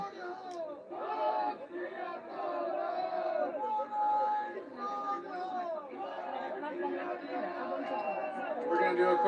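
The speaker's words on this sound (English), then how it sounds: "Big crowd behind us still." Large protest crowd in downtown Ottawa, a dense and steady babble of many voices with scattered shouts and calls rising above the mass of talk throughout.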